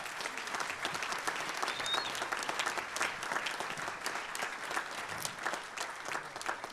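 A big band jazz concert audience gives a sustained round of applause, dense crowded clapping at moderate level continuing without a break.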